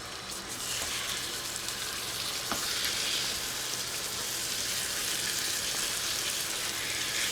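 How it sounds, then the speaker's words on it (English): Pork fat sizzling in a hot pan before pork chops are seared, a steady soft crackling hiss that stays even throughout with no talking. "So now the fat is sizzling a little bit. You can hear it start to get very hot."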